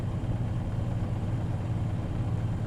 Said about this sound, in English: It's not a great sounding engine